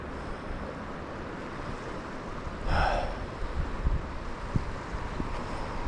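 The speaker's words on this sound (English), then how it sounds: "Wind again." Steady wind blows across a lakeshore at a campsite during a fishing trip, a broad rushing roar close to the microphone. The wind swells into a stronger gust midway, with a few faint knocks and no talking.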